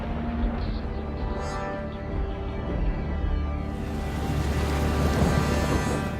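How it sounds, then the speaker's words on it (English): Heavy storm rain sweeps over a sailing regatta site in Germany, a dense, loud, continuous hiss and roar that swells partway through. Thunder and hail do not stand out. "Thunder, lightning, rain and hail swept the event site"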